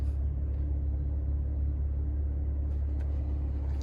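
A 2015 Maserati Q4 with an engine problem idling close by, a heavy, steady low rumble with a pulsing throb, holding constant throughout with a faint tick near the end.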